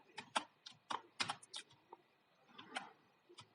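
Quiet, uneven clicks of keys being tapped on a computer keyboard, a quick run of keystrokes with brief pauses between bursts.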